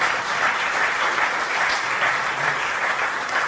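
Steady applause from a live concert audience in Portimão, a dense even wash of many hands clapping at moderate loudness throughout, with no voices over it.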